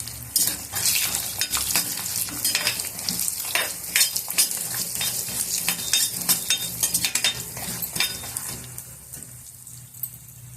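Bottle gourd gravy fries in a pan and is stirred. Steady sizzling runs under repeated close scraping and clinking of a utensil against the pan, then fades to near quiet at the end, with no talking.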